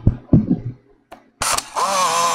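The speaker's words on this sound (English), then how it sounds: "Let's take a picture and see." Compact 35mm film camera takes a picture: a couple of mechanical clicks, a brief clunk of the shutter, then a loud motor whir winding the film, close up and without talk.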